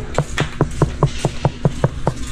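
Crispy roasted pig skin (lechon) being bitten or chewed, with close, regular crunches about five per second over a steady background of room noise.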